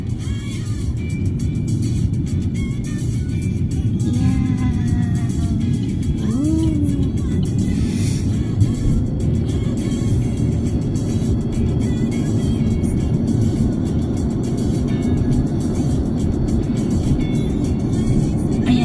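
Car cruising along a road in the Netherlands, with a steady low engine and tyre drone from inside the cabin, loud and unbroken throughout.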